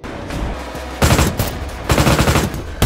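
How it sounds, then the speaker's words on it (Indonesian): Rapid bursts of automatic gunfire crack out loudly in a film shootout, where special forces storm a building held by armed robbers, in two main volleys with short pauses between them. "tiba tim pasukan khusus yang langsung disambut dengan rentetan tembakan"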